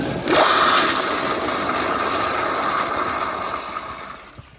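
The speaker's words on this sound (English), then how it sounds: "let me give you another flush like this" A 1999 American Standard Madera toilet flushes with a sudden loud rush of water that starts sharply, then holds as a steady, close, gurgling wash before fading at the end, with no voices over it.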